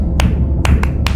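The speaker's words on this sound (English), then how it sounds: "In the Eastern Caribbean, they make a lot of what we call a 1 + 1 + 3." Sperm whale coda clicks from the game Beyond Blue in a 1+1+3 pattern: two spaced sharp clicks followed by a quick trio, over a low rumbling ocean background.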